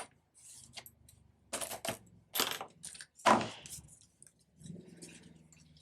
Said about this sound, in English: I'm gonna just fold this over and cut it right here.